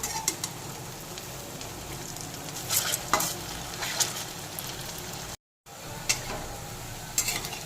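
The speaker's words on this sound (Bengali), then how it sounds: "তেল গরম হয়ে গেছে, পান্তুয়াগুলোকে গরম তেলের মধ্যে দিয়ে দিচ্ছি।" Langcha sweets, the syrup-soaked fried sweets made with semolina, frying in hot oil with a steady crackling sizzle and a few louder spits and stirring knocks, close by with no talking.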